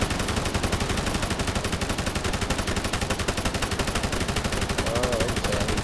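Sustained machine gun fire in the military shooter Arma 3, a rapid, evenly spaced stream of loud shots running the whole stretch.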